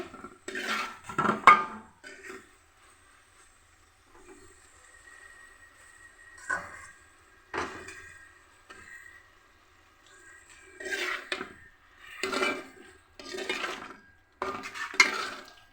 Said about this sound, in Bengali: সবজি দিয়ে আমি নেড়ে দিচ্ছি